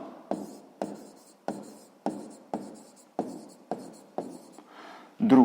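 Writing by hand in a notebook, with a pen making about nine regular rhythmic strokes close up, each a short scratchy burst, followed by a longer scribble at the end.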